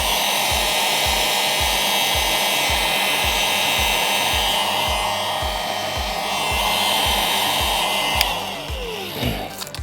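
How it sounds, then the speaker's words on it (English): Heat gun blowing hot air to shrink heat shrink tubing over wiring for an e-bike brake light, a steady loud whooshing fan drone with a rhythmic motor pulse, running close and continuously until a brief clatter near the end. "Alright, so now I'll just heat up that heat shrink"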